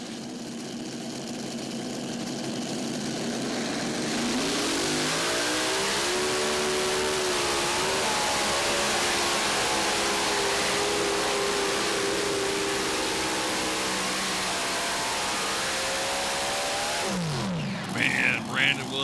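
A loud modified tractor-pulling engine roars and revs hard for a long sustained pull in a mod championship, the pitch climbing and holding, then cutting off abruptly near the end.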